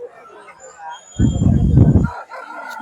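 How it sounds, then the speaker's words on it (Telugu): Hens and roosters crowd a busy village market near Anakapalli and Vizianagaram. A loud, close rooster crow rises over murmuring crowd chatter and nearby talking. "ఇవన్నీ కూడా పెట్టలు పుంజులు"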